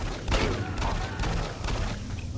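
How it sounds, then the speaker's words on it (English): Gunfire in the video game Doom 3, a few heavy blasts and thuds among dense in-game noise and rumble, loud and fairly continuous. "Who's shooting me?"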